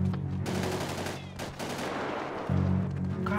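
Gunfire in the video game GTA 5 roleplay, a burst of rapid close shots crackling over a steady low engine-like drone, with a voice talking in the background.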